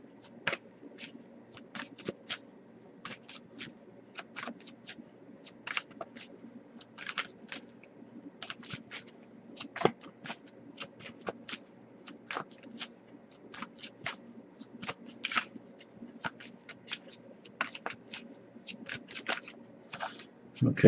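Tarot cards being shuffled over and over, a close, quiet run of crisp papery snaps and flicks in irregular bursts over a faint steady background hum.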